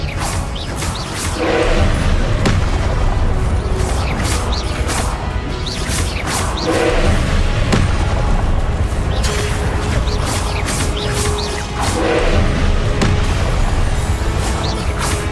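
Confringo fire-blast spells and other spells in Hogwarts Legacy during combat crash out repeatedly in loud, close bursts, with whooshing casts, smashing impacts and thuds recurring every second or two over a dense, noisy battle bed.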